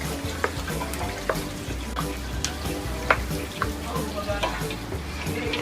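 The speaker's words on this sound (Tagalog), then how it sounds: "Kumukulo na po. Haluin lang po natin." Beef humba simmering in sauce in a pot is stirred, giving a steady bubbling sizzle with repeated scraping, clinking strokes of a utensil against the pot, close and moderately loud.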